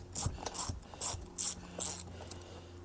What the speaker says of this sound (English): remove this bolt here